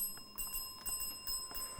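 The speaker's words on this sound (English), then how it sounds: "And that is the bell." A quiz show end-of-round bell on a televised primary school quiz competition, ringing in a few repeated bright metallic strikes with lingering tones, moderately loud and clear with no talk over it.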